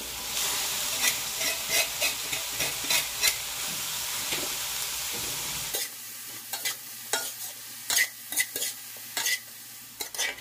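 Bamboo shoots and tomato stirred in a sizzling pan for ginataan na labong, with a steady fry hiss and a string of sharp utensil scrapes and taps against the pan coming in irregular bursts.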